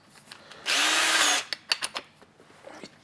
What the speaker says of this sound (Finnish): Ja otetaan tässä ensimmäiseksi ja porataan tuo.